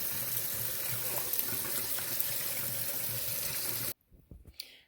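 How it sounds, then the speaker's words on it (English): Water pours from a tap into a pot for cooking jasmine rice, a steady rushing splash for about four seconds that stops abruptly, followed by a few light clinks. "now what we need to do is we need to add in our water"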